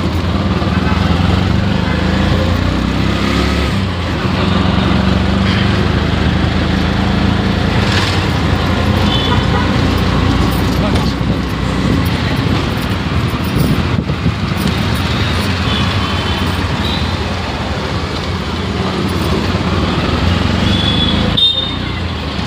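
A bus pulling into a depot on the road to Shrivardhan in Raigad, its engine droning loud and steady throughout, with rumbling traffic and wind noise around it.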